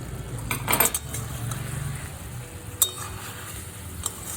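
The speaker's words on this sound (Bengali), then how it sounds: "প্রায় 5 মিনিট পর আমি ঢাকাটা খুলে দিচ্ছি।" A metal lid comes off a pot of pumpkin simmering over low heat, a few close clinks and a light clatter against a soft steady cooking hiss, with one sharp tap a moment later.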